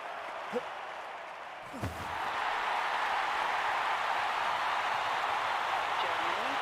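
A packed London 2012 Olympic stadium crowd bursts into sustained applause and cheering for an athletics jump, a broad roaring wash that swells after a couple of faint calls and carries on loud to the end.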